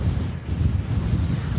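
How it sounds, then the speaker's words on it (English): Strong wind in the aftermath of a bomb cyclone blizzard in Colorado, 50 to 60 mph gusts roaring continuously and buffeting the microphone with a loud, low rumble, no voices. "How about all the wind, Jamie?"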